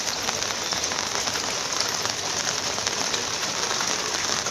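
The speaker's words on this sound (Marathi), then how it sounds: "जरा जास्तच जोरात पाऊस चालू आहे." Heavy monsoon rain pours down in Kalyan, a dense, unbroken roar of drops drumming on surfaces close by, steady and loud throughout with no voices.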